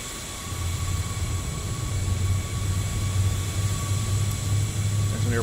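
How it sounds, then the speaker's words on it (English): Loud airliner idling across the ramp in a flight simulator game, a continuous broadband jet roar with a low steady hum and faint high whine, constant and unbroken throughout. "There's an airplane across the ramp that's so loud I can't even hear my own APU start."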